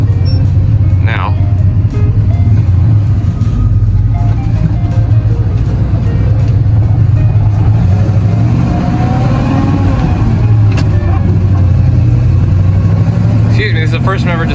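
Interior of a 1970 Plymouth Custom Suburban station wagon cruising down the road, with a steady loud low engine and road drone throughout and someone talking over it.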